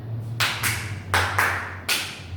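Hand claps in a classroom rhythm exercise: about five crisp claps, some in quick pairs and some single, moderately loud over a steady low hum, with no talking.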